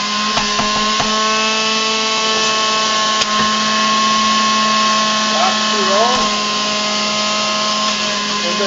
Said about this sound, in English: You can hear it too. It's grinding up in the inside.